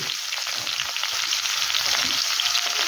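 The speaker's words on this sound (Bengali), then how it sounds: "শেষে বেগুন আর ঝিঙেটা দিয়ে আবারও একটু ভালো করে ভেজে নেব" Eggplant and ridge gourd frying in a pan with other vegetables, a loud continuous close sizzle with faint stirring scrapes and no voices.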